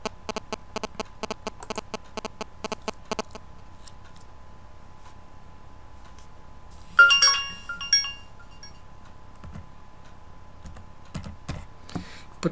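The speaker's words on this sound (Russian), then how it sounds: "У меня придет сообщение." A phone notification tone for a payment confirmation message sounds once as a short bright chime, after a stretch of quick computer keyboard typing and some quiet clicking.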